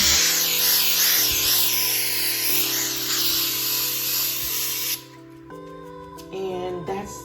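Frosting spray hisses in one steady, loud burst for about five seconds from roughly two feet away onto a Christmas wreath or swag, then cuts off, leaving a few faint handling sounds.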